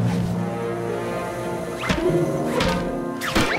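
A ball is kicked hard in a French Polly Pocket cartoon, giving about three sharp, punchy impact thuds spaced through a busy background of music and effects.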